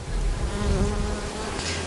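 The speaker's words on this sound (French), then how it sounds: "le bourdonnement des abeilles nous raconte leur parfum" Bees buzz continuously among the trees of an organic cherry orchard, a dense, close hum that stays steady and fairly loud for the whole short stretch, with no voices.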